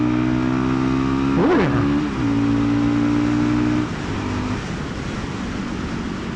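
A Fantic Caballero Scrambler 500 Deluxe motorcycle, ridden, accelerates with a loud steady engine drone that swells briefly on a rev change, then settles, under wind rush; a short spoken exclamation is heard.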